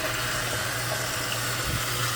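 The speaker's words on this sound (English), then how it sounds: "So right now I'm filling it up with water." Water pours steadily into the tank of an ultrasonic humidifier, a continuous close hiss and trickle with a low hum beneath, running without pause and without any voices.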